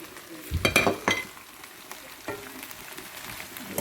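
Roasted crushed cumin, red chilli, turmeric and garam masala hit a hot pan for bhindi aloo bhujia, giving a brief burst of sizzling and scraping stirs up close, then a quieter frying hiss with a few more clinks.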